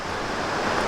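A clear stream near Crabtree Falls runs steadily, a close, broad rushing wash of water without pause.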